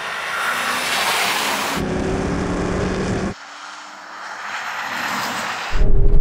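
A Porsche accelerates hard off-road through mud in a drag race, its engine roaring loud and close in sustained bursts, with abrupt drops in tone as it shifts gear.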